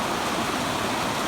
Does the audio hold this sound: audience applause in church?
no